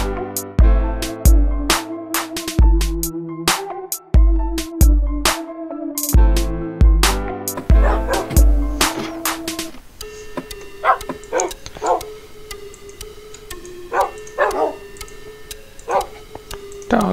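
Dogs bark repeatedly in the Minecraft video game, sharp yips landing in quick irregular bursts over a steady musical backdrop, then continuing more sparsely and softer as the music thins.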